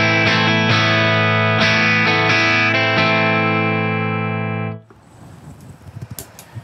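A clean electric guitar chord through a Two Rock Custom Reverb Signature amp, overdrive pedal bypassed, is strummed a few times and left ringing, then cut off, leaving quiet string and handling noises.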